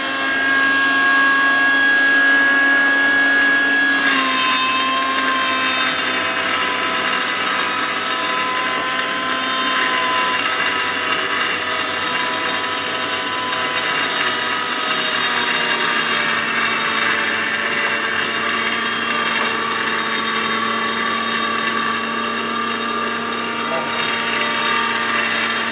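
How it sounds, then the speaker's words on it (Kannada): A compact home atta chakki flour mill grinds rice, a loud continuous mechanical whine and grinding drone with a steady tonal hum that shifts slightly in pitch after a few seconds and carries on unbroken. "ಬನ್ನಿ ನೆಕ್ಸ್ಟ್ ಅಕ್ಕಿ ಗ್ರೈಂಡ್ ಮಾಡೋಣ ಸರ್"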